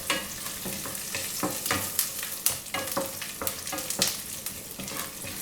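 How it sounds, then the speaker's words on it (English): Curry leaves sauté in hot oil for South Indian kulambu, a steady dense sizzle with crackling pops and occasional spoon scrapes, close and alone with no voices. "So just saute, add some curry leaves."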